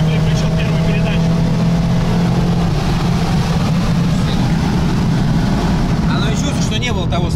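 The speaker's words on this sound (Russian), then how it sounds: "я вручную переключил первую передачу." A tuned BMW M5 F90 Stage 2 rated at 840 hp pulls away from a standstill in manually selected first gear, its engine a loud, steady roar from start to finish with a brief burst of wind noise near the end, as people talk over it.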